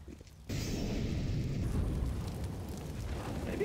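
A thrown grenade detonates in Counter-Strike on the Inferno map near the apartments, bursting suddenly into a loud, sustained rumbling boom that lingers and rolls without fading, with no voices over it.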